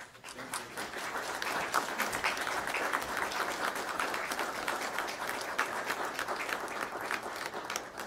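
A city council meeting audience applauds a family member coming forward to accept recognition, a steady, moderately soft wash of many hands clapping that holds evenly for the whole stretch.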